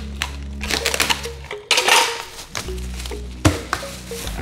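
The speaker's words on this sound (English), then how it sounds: "There's a little hole here, so I'm going to tape that." Packing tape is pulled off a roll and pressed down to seal a small hole in a packed shipping barrel, giving several rasping tears and thumps in an uneven rhythm, close and fairly loud.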